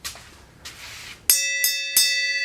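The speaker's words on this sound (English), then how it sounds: "All right, ring the bell." A bell rings out with three clear, bright strikes in succession, each note sustaining and overlapping the next, following some rustling and handling sounds.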